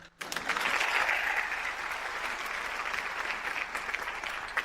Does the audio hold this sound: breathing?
no